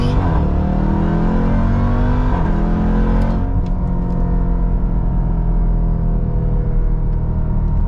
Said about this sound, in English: Unless you up rev, it looks like it's wanting to hold on and rev hang a little bit.